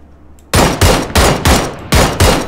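Loud bursts of video-game gunfire, five or six heavy blasts fired in quick uneven succession after a brief quiet start.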